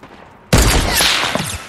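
Loud, sudden gunfire in the PUBG video game on PS4 erupts as a dense burst of rapid shots that keeps going for over a second at close range.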